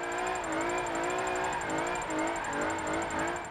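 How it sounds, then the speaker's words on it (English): A car engine revs hard at full throttle, a loud, sustained harmonic drone that wavers slightly in pitch as it pulls, steady and close throughout. "This thing sounds like a freaking race car."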